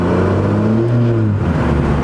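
A 12-valve Cummins diesel uprated from 200 to 500 horsepower with a governor spring kit revs briefly, its low drone rising quickly in pitch under the throttle over a couple of seconds.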